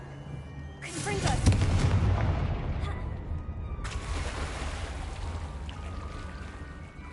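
A Confringo fire spell explodes in Hogwarts Legacy, a loud booming blast that rolls into a long roaring, crackling rumble, followed by a second burst of sustained fiery noise; a voice speaks faintly underneath.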